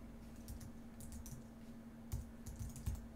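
Someone types text on a computer keyboard while working in Illustrator, giving quiet, close key clicks in short irregular bursts over a low electrical hum.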